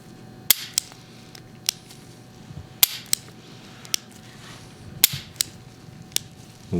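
A single action revolver is handled and cocked, giving a series of sharp, close metallic clicks spaced irregularly over a quiet background.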